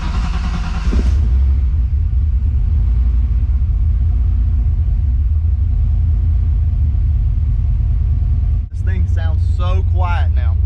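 A car engine fitted with a new starter, flywheel and block plate cranks and fires cleanly, then settles into a loud, steady low rumble that runs through the whole stretch, with brief talk near the end.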